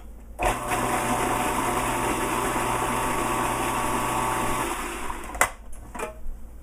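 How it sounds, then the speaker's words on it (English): A countertop blender whirs steadily, loud and close, as it blends a mustard dressing for about four seconds, then shuts off, followed by a few clicks and knocks. "because I like to blend things, I blend it. But first I have to plug the blender in."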